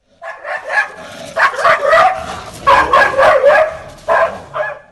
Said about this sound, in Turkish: Adı gibi cesur olan köpek memleketin asayişini sağlıyor.